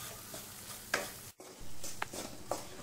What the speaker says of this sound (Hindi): आप देख सकते हैं कितनी बढ़िया अपनी बटर में मैदा पकते हुए दिख रहा है। तो ध्यान रहे, इसे कंटिन्यू चलाते रहना है